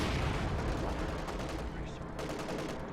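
M1919 machine gun fire in the game Company of Heroes 2, rapid bursts of gunfire with battle noise dense throughout and voices faintly underneath.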